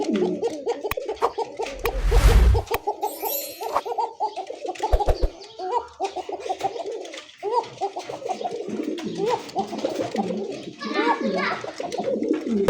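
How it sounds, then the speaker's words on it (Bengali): Many pigeons of breeds such as Bombai, racer and Giribaz kept together at a bird seller's, cooing continuously in overlapping, rhythmic rolling calls close by, with children's voices and talk mixed in and a brief loud burst near the start. "কবুতরই দেখেন।"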